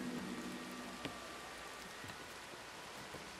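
Rain falls in the video game Red Dead Redemption 2 as a faint, even hiss with a few soft isolated drop taps, steady and distant, with no voices.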